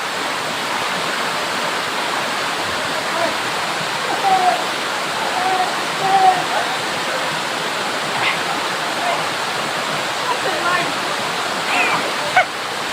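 Dhuppani waterfall in the Rangamati hills crashes in a constant broad roar, close and full, with a few brief voices and small exclamations rising faintly over the falling water.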